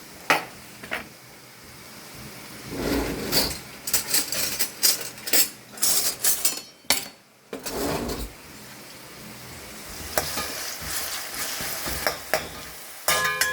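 Onions frying in a pan on a gas stove, a continuous sizzle broken by repeated spoon scrapes and clinks against the pan, with a short quiet gap partway through and no talking.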